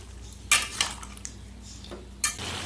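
A utensil scrapes and clinks in a pan as drumstick curry is stirred and coated in its sauce, giving a few sharp metallic taps over a low background hum.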